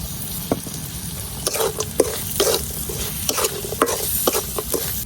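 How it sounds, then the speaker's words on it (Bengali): Dried fish frying with ground chili, coriander and salt in a pan, a constant low sizzle under repeated sharp scraping strokes of a spatula, close and fairly loud. "মশলার সাথে শুটকিটারে আমি একটু ভাজা নিছি।"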